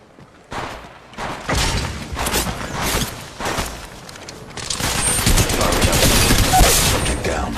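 Gunfire in the mobile battle royale shooter Apex Legends Mobile. Repeated bursts of rapid shots come in clusters, building to sustained dense firing near the end, with game effects and brief game voice lines mixed in.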